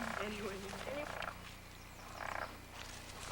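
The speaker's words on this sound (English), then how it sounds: "Jackie, what kind of frog are you looking for?" Frogs croak outdoors in short rasping bursts set apart by pauses, quiet and somewhat distant over a low background hum, with faint voices present.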